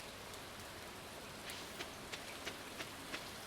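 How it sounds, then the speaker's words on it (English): Soft, steady rainfall in the farming video game Stardew Valley, a constant hiss with occasional faint droplet ticks, with no one talking. "Now we've got ourselves a rainy day."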